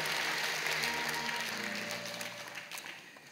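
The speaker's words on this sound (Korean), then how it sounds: "여러분께 박수로 환영하시죠." A church congregation at a Sunday worship service applauds in welcome, a steady wash of many hands clapping across the sanctuary that holds fairly loud and then slowly eases, with faint voices and tones underneath.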